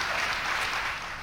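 An audience gives steady, dense applause for a speech, a continuous wash of many hands clapping at an even level throughout, with no voices over it.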